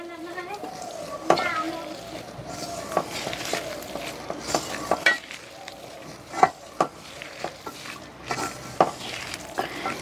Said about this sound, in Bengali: এখন মাখাচ্ছি।